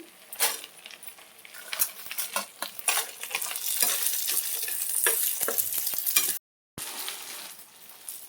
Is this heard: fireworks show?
no